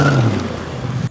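A refurbished car driven hard to shake a loose wheel off gives a loud, steady engine drone with low rumble, running continuously before cutting off abruptly near the end.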